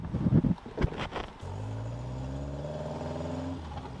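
A Caterham Super Seven with a carburetor that had been backfiring sets off on a test run: a few clunks, then the engine hums and its pitch rises steadily as the car accelerates.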